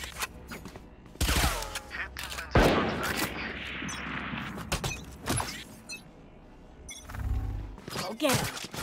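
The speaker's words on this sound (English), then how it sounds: "Placing swarm grenade." Swarm grenade and gunfire in the shooter game Valorant, with sharp bursts of shots, a loud blast-like crack and rattling fire, while a voice talks over part of it.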